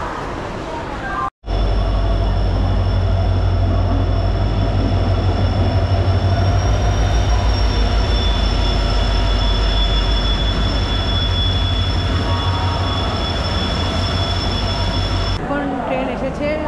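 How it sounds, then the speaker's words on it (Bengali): The Samaleswari Express, on the Howrah to Jagdalpur route, rolls into a station platform with a loud, continuous heavy rumble and sustained high wheel squeal that holds steady for several seconds after a brief cut at the start. "এখন ট্রেন এসেছে"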